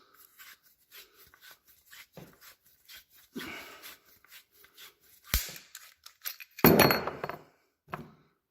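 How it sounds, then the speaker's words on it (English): A pipe cutter is twisted around a heating system pipe, giving a series of close, quiet metallic clicks and rasps in an irregular rhythm, with a few louder scraping bursts. "So just keep cutting it like that, twisting the pipe slice."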